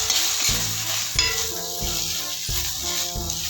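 Mini idlis are tossed with idli podi in a hot pan. A steady, close sizzle runs beneath rhythmic scraping and stirring strokes about every half second.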